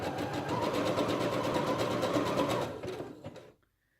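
A sewing machine runs a wavy decorative stitch at a steady, close whirring pace with a regular needle beat for about three seconds before slowing and stopping into silence.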